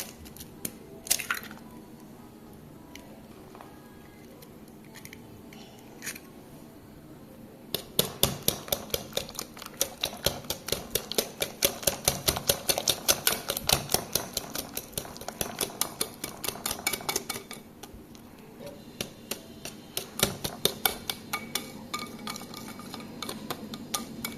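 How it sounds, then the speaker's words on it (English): Eggs being mixed into burnt basque cheesecake batter, quiet at first, then a long run of rapid rhythmic squishing and tapping strokes against the bowl, close and steady, fading in the last seconds. "I have added all 3 of the eggs all together and blended them well. Keep mixing."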